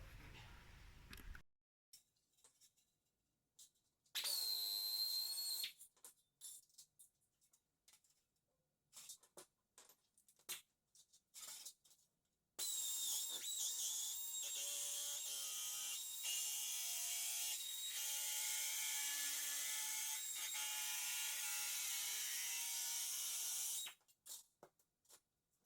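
Sheet metal patch being cut for the rear quarter panel and inner wheel well of a 1994 Suzuki Sidekick, a harsh ratcheting, grinding rasp in two bursts, a short one and then a long steady stretch of about twelve seconds, with scattered clicks and taps between.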